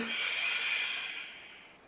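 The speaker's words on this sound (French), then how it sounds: "Respiration profonde." Deep, drawn-out breathing during a gentle hatha yoga session, a single long breathy exhale heard close and soft, fading gradually toward the end with no talking.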